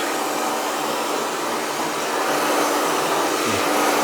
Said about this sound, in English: medium speed, high heat, you dry it from the bottom up into the top like this